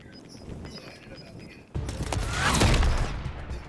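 Gunfire in a video game strikes the player: a sudden loud burst of game shots and impacts after a quieter stretch, staying dense and loud to the end, with a voice talking over it.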